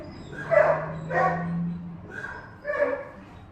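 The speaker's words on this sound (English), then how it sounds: "Some kind of activity that raised the barking of all the dogs." Several dogs at an animal shelter bark and yip in short bursts, somewhat muffled, with a low whine running beneath.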